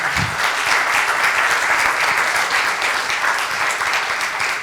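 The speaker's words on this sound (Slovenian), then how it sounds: "En aplavz." Steady applause from an audience at a medical technology round-table forum, dense and even throughout with no pauses or voices on top.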